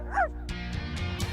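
A cartoon dog lets out a short, high yip followed by whimpering sounds, then music and other sounds take over, with a voice partly present.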